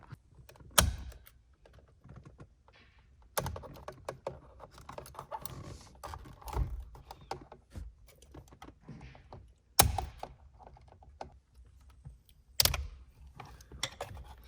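Steering wheel clips being pried off a 2016-23 Camaro with a flathead screwdriver: scattered close plastic clicks, taps and sharp snaps at irregular intervals, with quiet handling noises between them.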